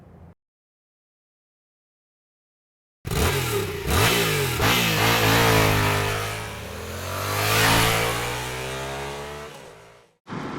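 A Ducati Monster 937 motorcycle with a Testa Stretta 11-degree engine fires up after a stretch of silence and revs loudly several times, the pitch rising and falling before cutting off.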